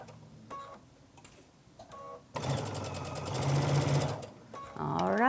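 A sewing machine stitches a seam on a 4th of July pillow, its needle chattering rapidly in a loud steady burst for about two seconds after brief softer runs, close and alone.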